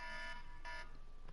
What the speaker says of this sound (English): That's my alarm.